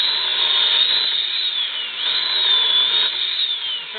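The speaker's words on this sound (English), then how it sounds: "making heat with an electric chainsaw, cutting my wood up" Electric chainsaw cutting up blocks of wood outdoors in snow, a steady high-pitched motor whine that dips and recovers as the chain bites into the wood, close and continuous.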